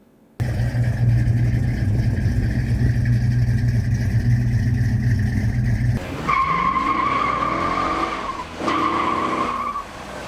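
A 1971 Dodge Charger Super B with a 426 HEMI V8 rumbles at a loud, deep idle-like drone, then cuts to sharper higher-pitched engine whine and squealing as it accelerates, with a brief dip before the tone returns.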